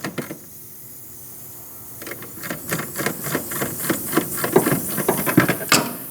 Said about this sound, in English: What you're hearing is the vacuum escaping when the system got evacuated.